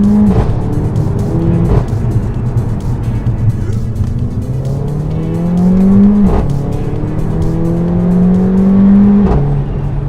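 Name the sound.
car engine revving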